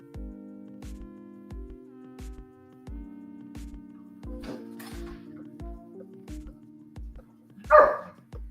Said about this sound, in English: Oh man, my dog's going to start barking.